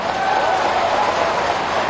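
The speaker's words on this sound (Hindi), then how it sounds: "तालियों की गड़गड़ाहट से।" At a political rally in Barotha, a crowd claps in a dense, continuous wash of applause, fairly loud and unbroken, with no clear speech on top.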